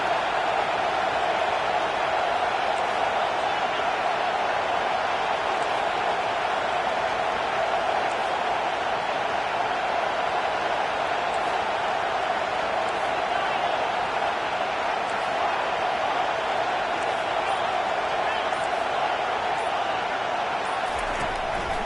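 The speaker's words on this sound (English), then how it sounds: "Decibels rising as the crowd gets behind this defense on 3rd down." Stadium crowd roaring during a third-down defensive stand in a football video game, a steady, dense wall of cheering noise holding loud throughout without breaks.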